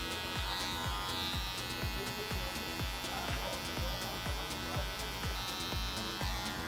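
Electric hair clippers buzz steadily and close during a drop fade haircut on wavy hair, with a constant droning hum and repeated rhythmic strokes, no talking.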